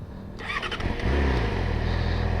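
A Yamaha R6 motorcycle engine cranks and catches, then settles into a loud, close, steady running note with a low throb, heard alone without talk.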